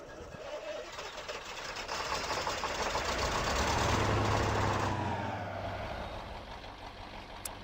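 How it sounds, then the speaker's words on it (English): A video game truck engine in SpinTires cranks and fires up, swelling into a steady rumbling idle that gradually settles, with no voices. "So hit start engine here and just let you listen to it starting up."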